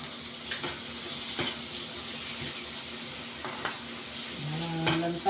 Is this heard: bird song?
no